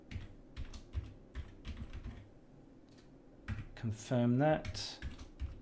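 Clicky keystrokes on a computer keyboard as a login name and password are typed during a Linux install, quick bursts of taps close by, with a voice speaking briefly between them.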